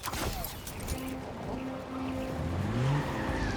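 A car drifts in Spider-Man 2, its tires squealing in long, wavering pitched whines over engine rumble, with a short crash-like clatter at the start and a rising squeal near the end.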